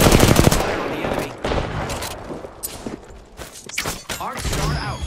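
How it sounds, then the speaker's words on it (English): Apex Legends gunfire: dense automatic bursts and single shots crack close and loud, with thumps, impacts and game voice callouts mixed in throughout. "The enemies are shooting at me."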